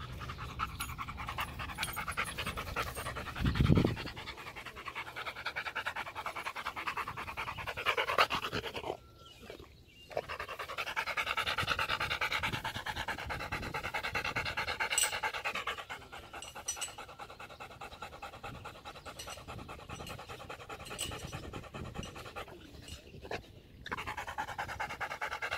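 A dog pants hard and steadily, close to the microphone, with quick rhythmic breaths running through the whole stretch and a few brief pauses.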